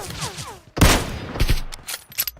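Gunfire in PUBG Mobile cracks out in a short burst of shots after a brief stretch of speech, sharp and close, with more scattered shots and game noise trailing after.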